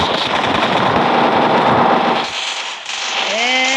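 Rapid automatic gunfire rattles densely in the Free Fire mobile game, then stops abruptly, leaving faint ambient noise and a rising electronic tone.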